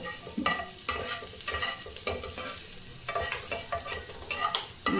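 Garlic frying with a spatula in a pan for a home-cooked winter flat bean dish, with steady close sizzling and repeated scraping stir strokes throughout.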